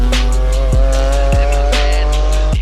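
A BMW E46 M3 drives past close and loud, its engine a steady rasping drone with repeated sharp downward sweeps as it shifts or modulates throttle, no voices over it.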